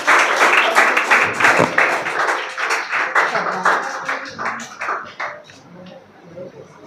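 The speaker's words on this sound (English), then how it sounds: "Clap for Siddiqui Anas." An audience in a school hall claps for a prize winner at a school confidence-building program, a dense round of applause that thins out and fades over several seconds, with voices mixed in.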